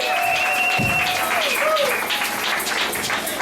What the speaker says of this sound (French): Merci, applaudissements.